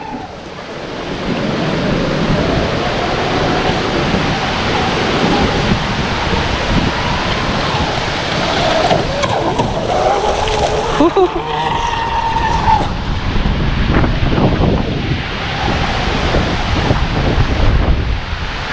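Blackjack 42 RC boat running through water, a continuous whine from its motor carried over loud wind and splashing surf, with a voice talking at moments.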